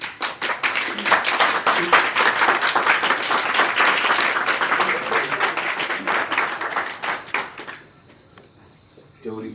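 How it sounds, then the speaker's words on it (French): Audience applauding in a jury hall once the president announces the admitted candidates at the CAMES 2019 agrégation in private law, Ouagadougou; dense, sustained clapping for about eight seconds, then fading to a quiet room. "on applaudit à la fin lorsque le président a fini son prononcé du délibéré"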